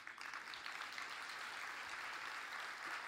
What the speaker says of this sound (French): Et là aussi, vous pouvez applaudir.